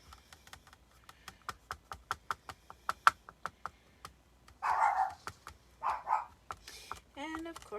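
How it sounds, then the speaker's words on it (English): Household dog barking while crafting indoors, starting with a run of short, evenly spaced sharp barks, then a few louder, longer barks and whimpers near the end, close by. "of course my dog is going to start barking."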